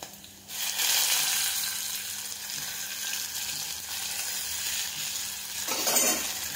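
Tomato hits a hot pan of oil and sizzles steadily while frying, a continuous close hiss that settles in after the first second and flares again near the end.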